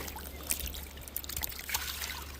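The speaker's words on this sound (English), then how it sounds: "we just get some super clean water in there" Clean water is poured into a gold pan beside a Melbourne creek. It makes a soft, brief trickling splash with a few small bursts of water, faint and close, over a low hum.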